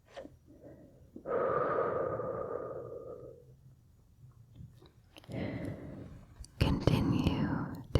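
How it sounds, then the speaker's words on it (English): Slow guided meditation breathing, a long soft inhale through the nose followed later by a breathy exhale through the mouth, close and gentle in a quiet ASMR setting, with faint whispery sounds between. "Inhale through your nose and then exhale through your mouth."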